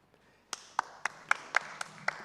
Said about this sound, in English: I will give you this opportunity to give a round of applause to the audience here